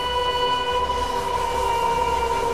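A train rumbles loudly under a sustained, steady high-pitched whine, the constant drone of a train pulling into a station in the strategy video game They Are Billions.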